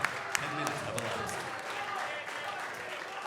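A crowd at the NJPW Tamashii wrestling main event in Sydney, Australia applauds steadily, a dense wash of clapping beneath a commentator's voice.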